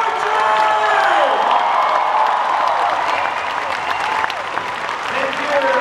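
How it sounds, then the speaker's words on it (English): Dense, sustained applause and cheering from a large conference audience in Malaysia greeting a speaker onstage, loud and continuous with scattered whoops throughout. "give him the warmest round of applause that Malaysia's ever given him"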